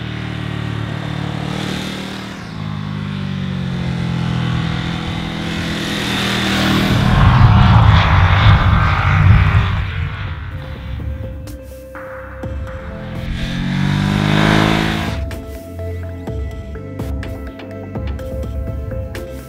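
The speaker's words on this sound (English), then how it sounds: "Get the engine revving and it'll lift the front wheel and it fires forward." A 2021 Ducati Monster motorcycle engine revs hard and accelerates through the gears, its loud throbbing exhaust note climbing and falling in repeated surges, close by with no talk.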